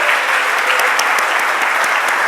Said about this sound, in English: I did say a huge round of applause